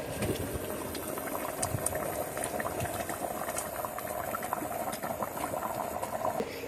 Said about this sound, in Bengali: এবার ঢাকনা দিয়ে 30 মিনিট রান্না করে নিব